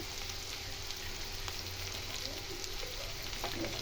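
Potatoes, cauliflower and grated ginger with green chilli frying in a pan, giving a steady, close sizzle that runs without a break and carries faint stirring clicks, with no voices.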